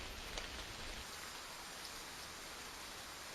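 Hailstones falling to the ground in a dense, steady hiss of countless small impacts, an even wash of noise with no distinct pauses or voices.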